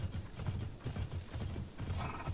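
Rhythmic hoofbeats clop steadily at a trot, close and fairly quiet, with a faint mechanical background, from a horse in the video game Immortals Fenyx Rising.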